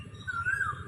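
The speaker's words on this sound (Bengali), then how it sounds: "ওদিকে কোকিল ডাকছে" A koel gives a single short, clear rising whistle-like call in a spring garden, heard alone at moderate distance against a faint low background hum.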